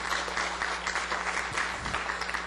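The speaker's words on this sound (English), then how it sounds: "A big round of applause for the people from the city for doing a really good job." A round of applause fills a workshop room, steady dense clapping from a modest audience throughout, heard close and fairly loud with a low hum underneath.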